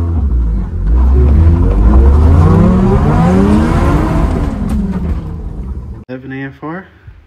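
A Lexus IS200 with a homemade turbo conversion and DIY fuel injection drives down a driveway, its engine loud and close as it pulls and revs with rising and falling pitch, then drops to idle as a voice talks over it at the end.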